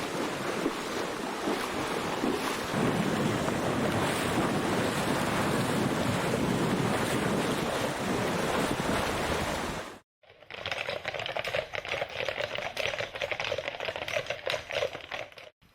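Sea surf rolls continuously onto a shore for about ten seconds, a dense broadband wash with wind buffeting the microphone. A second stretch of rougher, choppier water and wind noise follows. No speech.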